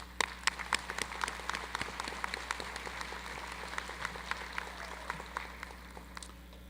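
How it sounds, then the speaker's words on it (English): Commencement audience applauding retiring professors: scattered, fairly quiet clapping in a large hall, individual claps distinct and uneven, tapering slightly. "I want us to give them a round of applause."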